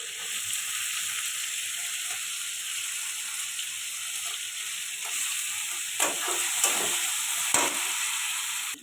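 Onion and green chili frying in a pan with a steady, hissing sizzle throughout, joined toward the end by a few scraping stirs of a spoon, close and continuous with no talk.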